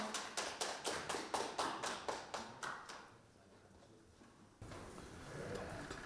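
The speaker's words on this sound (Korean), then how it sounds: "큰 박수 부탁드립니다." A small audience welcomes a speaker with rhythmic unison clapping, about a dozen evenly spaced claps that stop abruptly, followed by quiet room noise and then a faint rustle.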